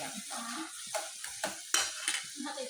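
Onions with masala stirred in a frying pan: soft scraping strokes and light sizzling, with a few spoon clinks against the pan, close and moderately quiet.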